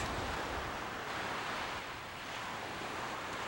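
Ocean surf breaks steadily on a beach where bluefish are being surf-fished, a continuous wash of crashing waves with a windy rush and no talking.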